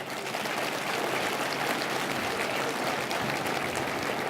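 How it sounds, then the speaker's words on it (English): Steady applause from an audience at an annual community meeting, a dense continuous wash of clapping that holds evenly for a few seconds with no talk over it. "let's give these organizations a great big round of applause."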